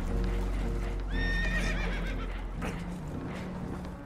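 Spooked horses in Red Dead Redemption II give a loud, shrill whinny with a wavering, falling pitch over a constant low rumble of water and boat noise.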